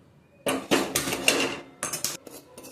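A spoon or spatula stirs semolina (rava) as it dry-roasts in a pan for a karanji filling, giving a series of loud, irregular scraping and clinking bursts with short pauses between them.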